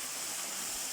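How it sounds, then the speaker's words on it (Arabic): Boiling water poured from a cup over freekeh grains, a short, even hissing splash of liquid heard faintly up close. "هننزل بقى اهو عليه بقى ميه مغليه، كوبايه ميه مغليه بالشكل ده"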